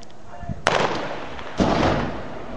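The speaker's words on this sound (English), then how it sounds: "It's about 100 yards away. That's AK-47." AK-47 gunfire from a gun battle about 100 yards away in Los Cabos, with two sharp distant cracks followed by rolling echoing bursts amid outdoor background noise.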